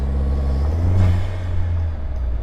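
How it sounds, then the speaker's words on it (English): A Vanderhall Speedster's turbo blows off through its wastegate as the throttle lifts, a loud, close whoosh over a steady low engine rumble that swells and fades across a couple of seconds. "You get on the gas and let off and you hear the craziest wastegate release whooshing ever."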